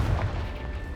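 A Confringo fire spell bursts in Hogwarts Legacy, a short, fairly quiet low thump that fades quickly into a soft rumble.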